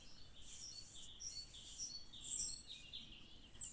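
A bird sings outdoors in faint, high chirps and short tweets that repeat irregularly over a quiet background, a little louder toward the end, with no talking.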